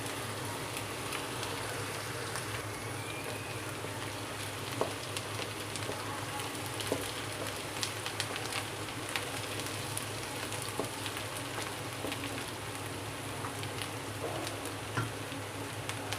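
Light, steady frying in a pan while cooking keema spaghetti with ginger paste, a soft continuous sizzle with faint crackles and occasional pops, fairly quiet throughout.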